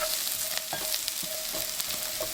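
Spicy potatoes with cilantro and ginger are stirred in a hot pan, giving a steady sizzle broken by several scraping stirs, close and fairly loud, with no talking.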